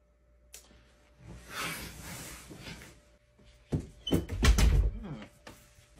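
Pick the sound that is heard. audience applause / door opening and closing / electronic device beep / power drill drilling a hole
door opening and closing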